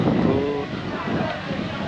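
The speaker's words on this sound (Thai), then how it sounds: "มื้อนี้ลมเลย" Strong wind buffets the microphone outdoors at a rural Lao wedding, a steady loud rushing roar with faint voices under it.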